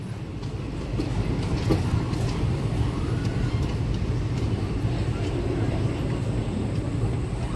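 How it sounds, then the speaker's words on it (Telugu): The Guntur–Narsapur Intercity passenger train passes close by, a steady rumbling roar of wheels and carriages rising after a second and holding loud and continuous to the end. "గుంటూరు నరసాపురం ఇంటర్సిటీ క్రాసింగ్ అవుతుంది మనకి"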